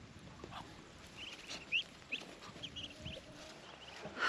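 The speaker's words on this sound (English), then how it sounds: "Shoo, ducks." Muscovy ducks around a farmyard feeding area, a few scattered faint calls and squeaks over quiet outdoor background, some brief rustles and movement, no talking.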